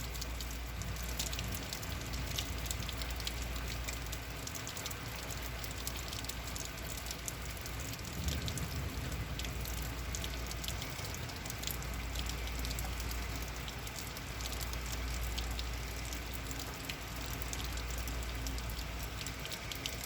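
A rain storm beats steadily outside the windows, a constant close patter and hiss of drops over a low rumble, with no voices.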